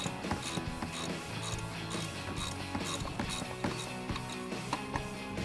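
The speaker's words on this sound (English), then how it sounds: "So I'm going to take a 16mm ratcheting wrench and put that over the stud, and then we can start to loosen that up." A 16mm ratcheting wrench clicks rapidly and steadily as it loosens a shock nut on a Jeep Wrangler JK, with repeated close mechanical ratchet ticks and faint metallic rattles.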